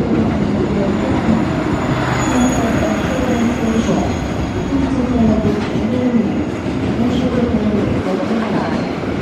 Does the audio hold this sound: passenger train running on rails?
yes